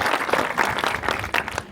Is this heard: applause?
yes